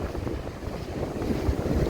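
Strong wind from a seaside storm roars and buffets the microphone in a steady, loud rush, with a low surf-like rumble beneath and no voices.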